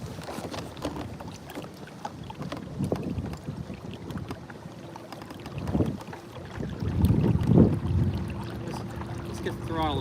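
A fishing boat's motor drones steadily on a lake while pushing into a strong wind, with gusts buffeting the microphone and someone talking over the engine noise.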